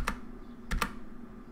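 Three quick keystrokes on a computer keyboard in a quiet room as a command is entered into the fish shell on a terminal, close and crisp, the last two coming in a fast pair.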